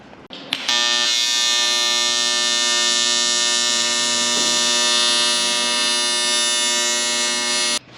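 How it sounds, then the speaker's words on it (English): Welder joining a bottom mount onto a front-mount intercooler on a Nissan GQ Patrol, a steady loud electric buzz that starts abruptly and holds for about seven seconds before cutting off, no talk. "I'll just weld it to the intercooler there."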